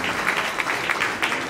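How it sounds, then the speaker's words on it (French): Applause from an audience at a French-language political gathering, a steady wash of clapping with scattered sharper claps throughout, moderately loud and continuous. "Est-ce que nous pouvons applaudir?"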